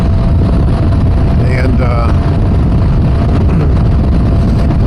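Heavy wind buffets the microphone of a rider on a motorcycle, a loud, constant low roar that completely masks the engine, with a brief faint whistle in the middle and a voice briefly audible under it.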